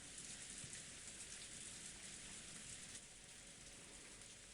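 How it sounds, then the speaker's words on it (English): Steady rain falling in the Umineko visual novel video game, a dense continuous hiss holding at a constant level throughout with no voices or other sounds. "All that could be heard was the sound of the rain"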